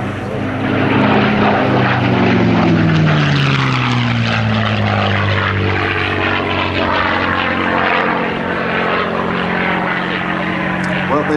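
Four Wright Double Cyclone air-cooled radial aircraft engines, 3,250 horsepower each, roar loudly at an airshow, the propeller drone sweeping downward in pitch as the plane passes, then settling into a sustained, powerful rumble.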